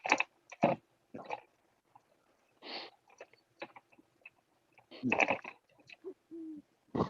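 An owl hoots a few times at a distance, mixed with scattered clicks, rustles and soft bursts of nearby voices.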